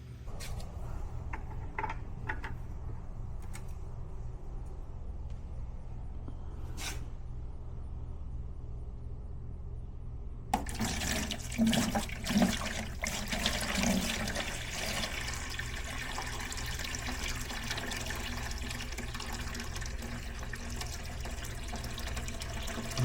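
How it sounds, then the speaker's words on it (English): A layer of water is poured off settled Georgia red clay. After a quiet stretch with faint handling noises, a steady splashing pour begins midway and keeps running until the end. "So I need to pour this layer of water off."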